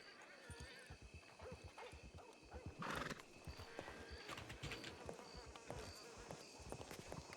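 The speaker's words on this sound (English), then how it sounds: "I hear some horses" Horses neigh and their hooves clip-clop faintly at a funeral, with an irregular thudding gait and one brief whinny partway through, under quiet background noise and insects.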